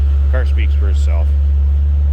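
A 2006 Ford Mustang Roush Stage 1 coupe with a 4.6-litre three-valve V8 idles close by in a deep, steady, loud low rumble while someone talks briefly over it.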